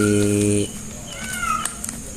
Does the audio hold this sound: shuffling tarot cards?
no